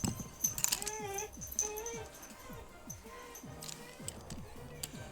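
A dog whimpers and whines repeatedly in short high yelps, close by, with small clinks in the background.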